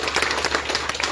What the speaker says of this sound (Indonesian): Ketong boleh tepuk tangan